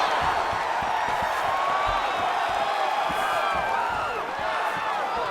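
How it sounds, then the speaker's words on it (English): A video-game arena crowd from a UFC 5 lightweight title fight roars and cheers continuously, a loud steady wash of voices with scattered whoops throughout. "The crowd's going crazy because they appreciate high-level mixed martial arts"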